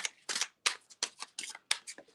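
Quick papery riffling bursts of a tarot deck being shuffled repeat in short, uneven flurries, close and soft, with no voices.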